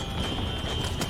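Horse hooves gallop in Red Dead Redemption on PS3, a run of rhythmic clip-clop beats that stays steady and fairly close, with no talk over it.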